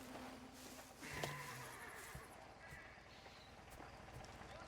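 A horse whinnies in the video game Mafia: The Old Country amid a faint clip-clop of hooves, with murmured voices underneath in a quiet setting.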